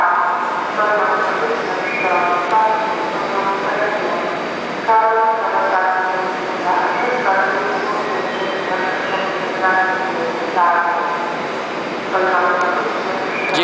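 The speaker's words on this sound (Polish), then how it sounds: "Odjazd pociągu do" A Polish ŁKA regional passenger train departs from a station, bound for Dębica. Loud rumbling rail noise carries tonal whines and rhythmic clunks that surge and ease over about fourteen seconds.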